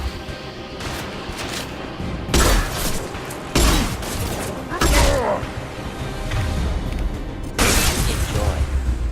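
Concussive shot firing in Mass Effect 2, with several sharp booming impacts about a second or more apart, set against continuous game noise, and a voice is heard talking.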